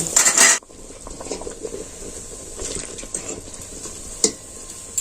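An egg coated in flour and rice powder fries in boiling hot oil, a soft steady sizzle with a burst of clatter at the start and occasional light utensil clinks nearby.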